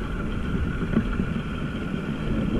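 A small boat engine runs in a steady, low, continuous rumble close by, with no talk over it.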